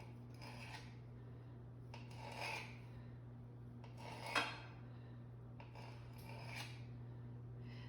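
Knife slicing through cheesy bacon bites topped with bacon pieces, a few separate rasping cuts at steady intervals over a constant low hum.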